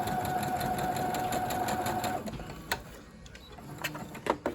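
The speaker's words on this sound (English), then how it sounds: "I'm also going to do a back stitch when I get to the end." A sewing machine runs a rapid, steady mechanical stitching burst while back stitching a fabric face mask, then stops, followed by a few faint clicks and handling sounds.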